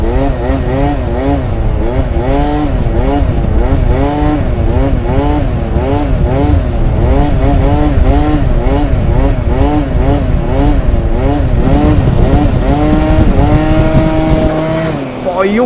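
A Yamaha Aerox 70cc scooter with a buzzy two-stroke engine is revved hard, near and loud, in repeated rising and falling blips that climb to a sustained high pitch, with voices now and then over it.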